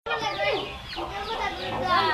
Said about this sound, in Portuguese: Sai daí, Pablo, a galinha é brava.